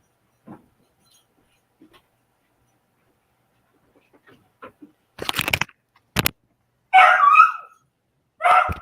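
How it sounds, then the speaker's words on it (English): Dog barking indoors, first faint scattered sounds and quiet, then a burst of sharp close barks and yips in quick succession near the end. "He's just going to bark at me until he calms down."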